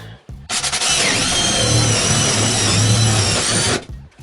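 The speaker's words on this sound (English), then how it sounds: "Drilling a starting hole so we can fit our saw blade through." A power drill whines steadily at high speed for about three seconds, loud and close, spinning up and drilling a starting hole in wood before winding down.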